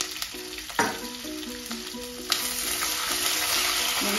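Curry leaves hit hot oil in a pan with a sharp burst of crackling, then settle into a continuous close sizzle with a few spoon clinks and another spatter partway through; nobody speaks.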